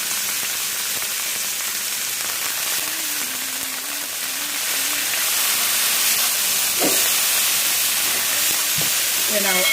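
Oil hisses and sizzles steadily in a hot pan for fried rice, loud and close, with fresh peas, onions and carrots; brief clinks and scrapes near the end.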